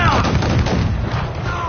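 Ship cannon fire in Assassin's Creed 4 Black Flag lands as one loud, heavy boom that rolls off into a long rumbling decay.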